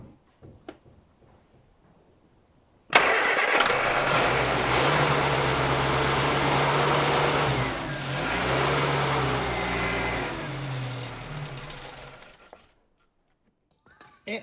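A barn-find Morris 1300 engine cranks and catches, then runs for several seconds at a steady idle with a slight rise and fall in revs before shutting off, close and loud.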